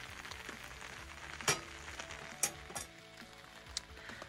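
Homemade sausage cooking over a campfire at a rainy campsite, a quiet continuous sizzle with a few sharp clinks and pops, heard alone.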